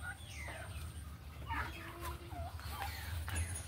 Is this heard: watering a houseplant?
no